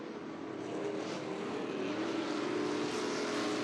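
Off-road Super Trucks roar past on a dirt race track, a steady, broad engine drone that holds at an even, moderately distant level throughout, with no talk.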